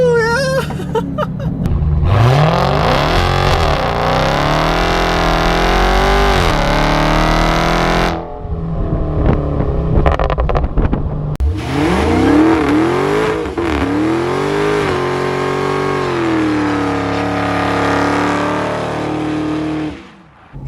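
A 2025 Dodge Durango Hellcat Silver Bullet launching hard with wheel spin on a straight road, its engine roaring loudly through rising gears, a brief lift and drop, then a second sustained pull that cuts off abruptly at the end.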